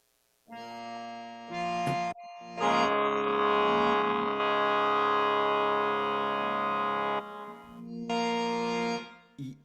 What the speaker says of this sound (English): See, Tanpura will sound like this.